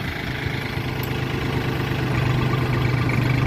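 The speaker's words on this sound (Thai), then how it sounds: "วางให้แม่นๆหน่อยแล้วก็ใช้รถไถเข็นมาครับ" A tractor engine drones steadily at close range while pushing a heavy drainage pipe in a rice field, loud and continuous with a low rumbling hum and no talking.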